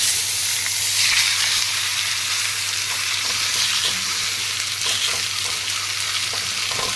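Small mourala fish wrapped in banana leaf sizzle steadily in a hot wok, a continuous close frying hiss with faint crackles and no talk.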